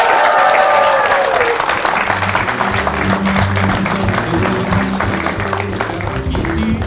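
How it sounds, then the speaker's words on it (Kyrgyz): A studio audience at a talent show applauds loudly and steadily for about seven seconds, a dense wash of clapping with low tones running underneath from around the second second. "Бүгүнкү эң мыкты шоусунун чечен өнөрү менен бизди таң калтырган Билал Ормановго кол чабуулар."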